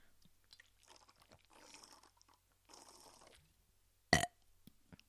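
A single short, loud burp near the end, standing out after quiet, faint mouth sounds and shuffling.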